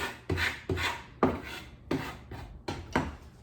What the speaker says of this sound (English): just gonna scrape up all the little bits